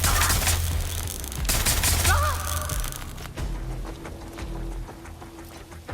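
Gunfire in a video game crackles in dense rapid bursts, then gives way to rumbling and scattered shots, with a brief synthetic tone and sustained hum mixed in.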